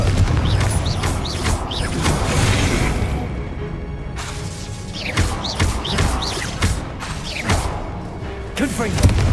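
Confringo explosive spells cast at statues in Hogwarts Legacy, several heavy thuds, crashes and shattering bursts spaced across the stretch, mid-distance and fairly loud, with voices and game chatter heard over much of it.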